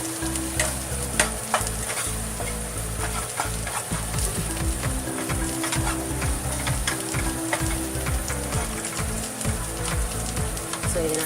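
Soya chunks and mushroom fry loudly in a pan, a dense sizzling hiss with frequent crackles and scraping stirs, continuous and close, no talking.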